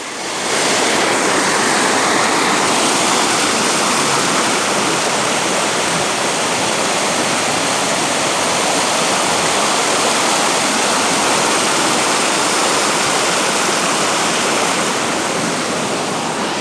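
Steady, loud roar of a waterfall on an action-packed hike, a dense, unbroken rush of falling water close to the microphone, with no voices and no change in level throughout.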